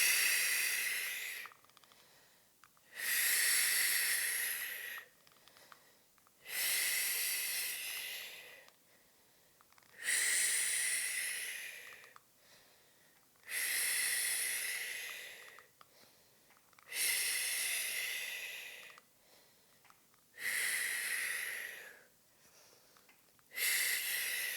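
Slow, deliberate breathing during a pregnancy pelvic floor workout, long airy inhales and exhales alternating about every three seconds, close and clear with no talk, eight or so breaths in a steady cycle.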